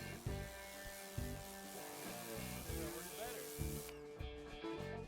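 An AR Blue Clean 142 pressure washer sprays a dirty, oil-stained driveway, with a close, continuous hiss and motor drone under stepped pulsing, and the spray cutting off near the end.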